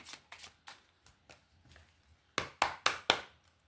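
Belline oracle cards shuffled by hand at close range, a series of crisp riffling bursts, softer and spaced at first, then four louder rapid shuffles near the end, with no talk.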